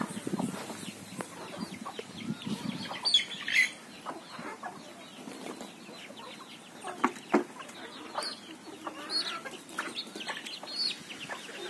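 Free-range native country chickens clucking in a natural farm setting, with scattered clucks and short calls of varying loudness, some close and some farther off, plus brief wing flaps, with no talk.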